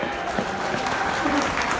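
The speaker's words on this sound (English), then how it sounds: "big round of applause for Neil Fitzhenry" A crowd at a Southport Hall of Fame induction claps to welcome former player Neil Fitzhenry, a brief, dense burst of applause with some murmuring underneath.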